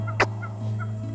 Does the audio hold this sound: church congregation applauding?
no